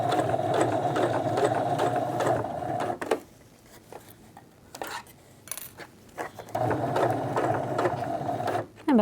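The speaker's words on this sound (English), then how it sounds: "Yep, now I'm going to back stitch." A sewing machine stitches a zipper onto a reversible hoodie in fast, steady rattling runs, stops for a few seconds with light handling noises, then runs again in reverse, close and clear with no talking.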